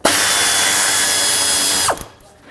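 A power ratchet spinning out a 10mm bolt near the radiator fan of a 2009-2013 Honda Fit, a loud continuous whine for about two seconds that stops abruptly, leaving a few faint clicks.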